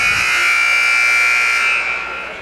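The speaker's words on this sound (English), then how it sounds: "There's the first buzzer" A loud, sustained electronic buzzer sounds at a girls' high school basketball game, blaring steadily for over two seconds before starting to fade.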